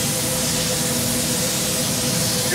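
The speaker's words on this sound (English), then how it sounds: "Using a little compressed air on the bottom there because he does want to make sure that's going to stay a little bit thicker" Compressed air hisses in a steady, loud blast against the bottom of a hot glass piece at a glassblowing exhibit, continuing unbroken throughout.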